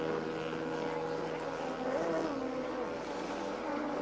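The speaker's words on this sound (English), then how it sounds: "that boat doesn't sound fantastic" Rough waterjet racing boat engine droning steadily at a distance, a coarse, uneven motor hum with wind noise over it.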